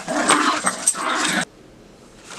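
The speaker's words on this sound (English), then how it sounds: "my dogs decided to start fighting in the background here" Two dogs scuffling indoors, giving close, loud snarls, growls and yips for over a second before they suddenly go quiet, leaving faint background noise.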